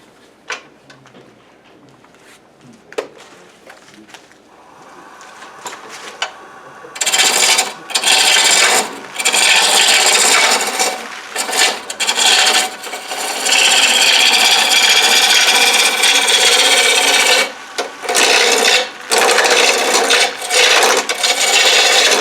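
A gouge roughs a wooden hollow form spinning on a lathe, starting quiet then turning into loud, close, continuous rasping scrapes broken by short pauses between cuts.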